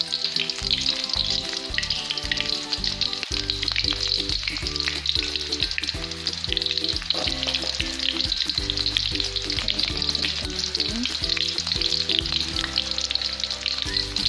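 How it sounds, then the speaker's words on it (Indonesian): Shallots and garlic sauté in hot oil with a steady, bright sizzle that runs for the whole stretch, while a tonal musical bed plays underneath. "Kita tumis terlebih dahulu bawangnya supaya aromanya itu keluar gitu, wangi."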